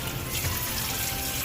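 Tap water running steadily into a sink while a pork leg is washed, a brief, close, continuous splashing hiss with no talk.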